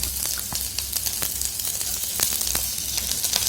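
Onions sizzle and crackle in a hot pan as they fry for a red amaranth leaf dish with poppy seeds and peanuts, a steady close hiss dotted with sharp pops throughout.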